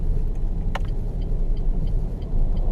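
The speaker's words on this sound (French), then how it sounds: "Donc je ralentis à l'entrée du virage. Ici, je mets ma première." A driving-school car slows at the entrance to a bend and shifts into first gear, a steady low engine and road rumble from inside the cabin with a brief click and faint ticking, alone.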